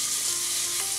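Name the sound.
garlic frying in a pan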